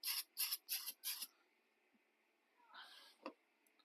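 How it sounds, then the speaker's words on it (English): Brake cleaner sprayed from an aerosol can onto a cloth in a garage, four short close hissing bursts in quick succession followed by a softer spray and a small clunk. "Spray a bit of brake clean on this."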